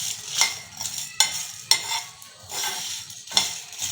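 Whole spices roast dry in a pan for Kathiawari cholay, stirred with a utensil that scrapes the metal in short, uneven strokes over a soft crackling sizzle, close and without talk.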